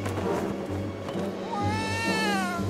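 An animated cartoon cat meows in a drawn-out, wavering, pleading cry over a steady musical background, rising and falling in pitch.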